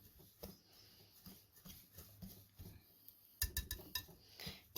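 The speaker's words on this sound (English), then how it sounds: "It's still okay to mix with my whisk." Bath bomb mixture being whisked in a bowl, with quiet rhythmic scraping and light clinks of the whisk against the bowl, close and soft, ending in a brief flurry of sharper taps.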